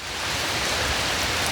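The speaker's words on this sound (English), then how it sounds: "The rain comes out of nowhere." A sudden summer downpour in the southeastern US, a dense, steady hiss of rain falling hard on surfaces nearby, with no talking.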